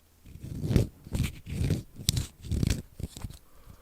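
Close, repeated crunching and squeaky grinding in several bursts as a Lost Vape Grus mod's plastic tank is forced on, with no voices.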